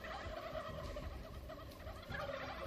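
Several turkeys gobble in the survival game How to Survive 2, a continuous warbling, rattling chorus at moderate volume with no talk over it.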